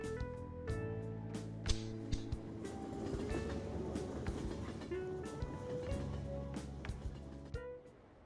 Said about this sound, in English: The train stopped.